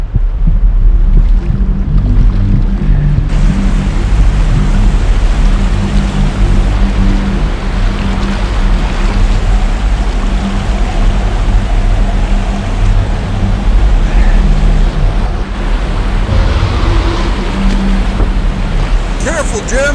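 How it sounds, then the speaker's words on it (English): River water rushing above a waterfall, a loud, dense continuous roar with wind buffeting the microphone, and a voice briefly speaking over it. "Eddying out above a death waterfall."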